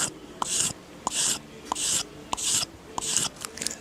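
A blade being worked against a strop on a stone, about six evenly spaced rasping strokes, close and crisp, with brief pauses between them and no talk.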